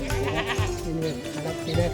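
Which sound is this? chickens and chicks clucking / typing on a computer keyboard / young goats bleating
young goats bleating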